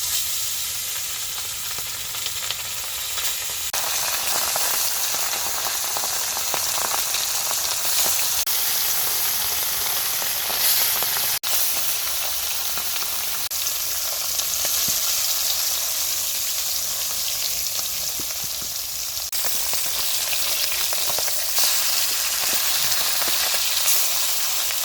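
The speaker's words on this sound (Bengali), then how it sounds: "তেলটা গরম হয়ে গেছে, এখন মাছ দিয়ে দিব।" Fish fries in hot oil in a wok, a loud, steady, rain-like sizzle that holds close and constant throughout with no speech.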